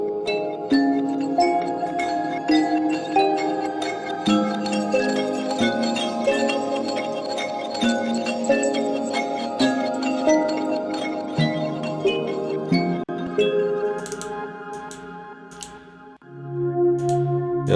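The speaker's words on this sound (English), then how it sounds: "And then there's also this kalimba melody." A plucked kalimba plays a twinkling, metallic melody with ringing notes over sustained chords, continuing steadily before thinning out near the end.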